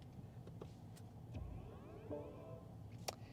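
A short electronic chime rises from a 2022 BMW iX electric SUV at start-up, with faint clicks and a low motor hum around it; no talking.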